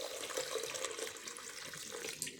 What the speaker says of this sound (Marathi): आपल्याला साधं पाणी घ्यायचे, म्हणजे रूम टेम्परेचरचं, भरपूर पाणी घालायचे।